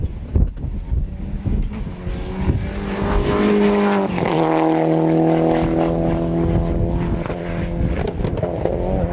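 A Toyota GT4 rally car races loudly past on a rally stage, its engine note climbing and then dropping sharply as it passes close by and pulls away.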